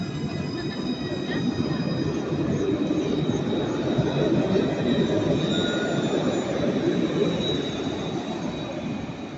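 A Nice tram on lines 1, 2 or 3 pulls away from the Jean Médecin stop, its wheels squealing against the rails over a steady, loud rumble that holds throughout.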